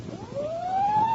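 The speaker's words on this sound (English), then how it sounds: "maybe it's the sound of sirens racing to a fire" A single emergency-vehicle siren wails with a steadily rising tone, distant and moderately loud over a low background rumble, heard alone without voices.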